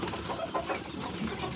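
Young chicks of the Kuchinskaya Jubilee chicken breed chirp softly in a coop at night, a faint, brief flurry of peeps against a quiet background hiss.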